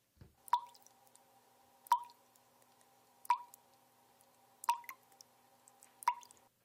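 Water drips from the second-to-last tray of a tiered fountain, five clear, evenly spaced drops with a hollow plopping ring, fairly close and alone against near silence.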